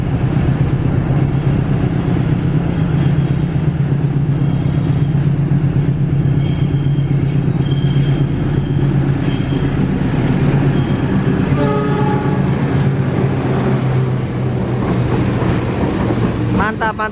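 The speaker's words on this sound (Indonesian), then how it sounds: "kereta api Parsel sedang berjalan secara perlahan-lahan masuk di jalur 2 stasiun Leles dengan double lokomotif" A parcel train hauled by double locomotives, with a generator car attached, rolls slowly into track 2 at Leles station; a loud, continuous engine drone and rumble fills the scene, with wheel squeal and horn-like tones rising toward the end.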